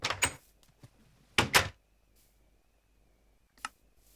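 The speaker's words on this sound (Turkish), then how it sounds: "Şimdi aç kapıyı." A door opening in the Minecraft survival video game: a few short, sharp clunks and clicks spaced apart against near silence.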